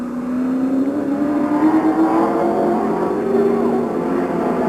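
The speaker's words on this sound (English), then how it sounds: "Lacombe taking the checkers in this qualifying heat, followed by Grollo and Morissette." Stock cars, including a Monte Carlo and a Thunderbird, race through a 1995 qualifying heat at Autodrome St-Eustache, a loud steady engine roar with rising pitch as cars pass close by.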